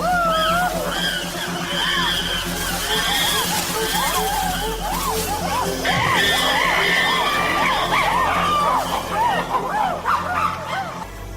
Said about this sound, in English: To intimidate their opponents, the aggressors scream and drum on buttress roots.